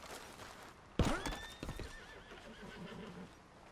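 A horse whinnies loudly in Red Dead Redemption 2, a sharp neigh followed by a few clip-clopping hoof steps close by, with a steady game ambience underneath and no talking.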